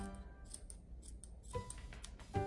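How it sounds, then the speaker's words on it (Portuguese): Scissors snip into a giant stress ball filled with orange slime, making faint, crisp clicks and small squelchy cuts with a stronger snip at the end, all quiet and close. "Vamos cortar e ver como que essa bola gigante vai se comportar."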